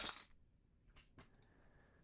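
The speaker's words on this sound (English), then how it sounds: "It makes the drop way harder, especially because I have this glass in here." A glass-breaking sound effect in a trap beat opens with a sharp, bright shatter, followed by a few faint scattered clinks of falling shards that trail off into near quiet.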